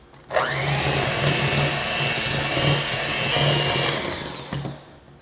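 An electric mixer whirs into cheesecake batter with sugar and vanilla, starting abruptly and running as a loud, steady motor drone with slight wobbles, then stopping and giving one short final burst.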